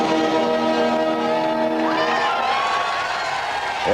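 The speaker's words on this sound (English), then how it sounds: "Crowd go up." Formula 1 crowd at the 1999 San Marino Grand Prix cheering and whooping loudly and continuously, a dense roar of many voices with a rising shout partway through.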